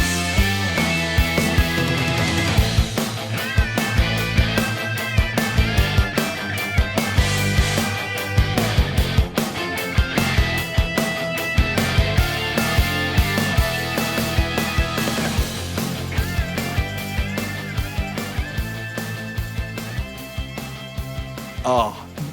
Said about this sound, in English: think 90s anime music